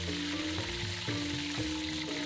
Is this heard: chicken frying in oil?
yes